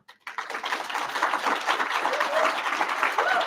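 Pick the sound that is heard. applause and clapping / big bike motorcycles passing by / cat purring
applause and clapping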